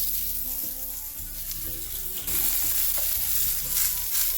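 A burger patty sears in a hot pan with a constant close sizzle and crackle, growing slightly louder partway through.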